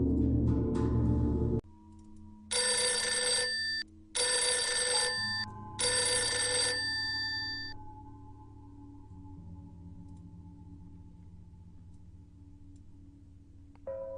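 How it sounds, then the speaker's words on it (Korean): An old-fashioned telephone bell rings upstairs in an empty, abandoned house, three distinct ringing bursts of about a second each, fairly clear, followed by a low quiet hum. "그 순간 2층에서 울리는 전화벨 소리."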